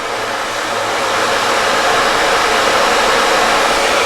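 A handheld hair dryer blows steadily and loudly at close range for about four seconds, a continuous broadband whoosh used while shaking and styling a short pixie cut, with no talking.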